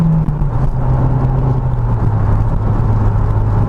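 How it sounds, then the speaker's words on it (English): A 2008 Opel Astra OPC Nürburgring Edition pulls hard from third gear. Its engine holds a loud, steady drone from inside the cabin, with a whirring, slightly wavering pitch and no talk over it. "we're going to pull from third gear this time"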